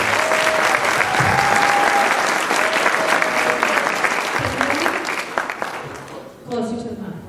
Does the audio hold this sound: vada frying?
no